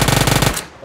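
Rapid automatic gunfire in a video game, a loud burst of about a dozen evenly spaced shots over half a second, then a short ringing tail, with no talk over it.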